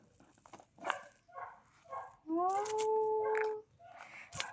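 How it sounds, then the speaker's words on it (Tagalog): A dog yelps and barks a few times nearby, with one drawn-out whining howl in the middle. "Ang aso ng kapitbahay maingay."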